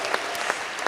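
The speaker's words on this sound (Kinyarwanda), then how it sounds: "Let us put our hands together for God." A church congregation claps together for God during a sermon. It is a brief burst of dense, steady applause from many hands in a large room.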